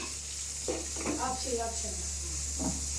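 Green chillies and onions fry in a pan with a steady, close sizzle and hiss throughout, while a muffled voice murmurs underneath.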